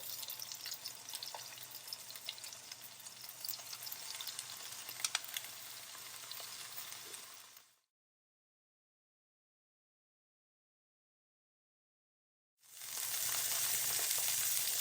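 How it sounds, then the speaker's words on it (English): A fish fillet sizzles loudly in a hot pan, a steady close hiss that stops abruptly for several seconds and then resumes just as strongly. "I'm going to now take my fish and always put the fish away from you so it doesn't splatter"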